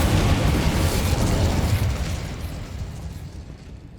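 The Incendio fire spell cast in Hogwarts Legacy lets out a loud, roaring whoosh-burst of flame that fills the first couple of seconds and then trails off gradually into a fading rumble.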